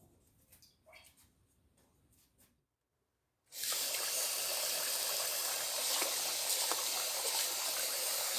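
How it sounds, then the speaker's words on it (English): Soft clinks and rustling, a moment of silence, then a steady, loud rush of tap water pouring over rice in a pot. "So why do we wash our rice?"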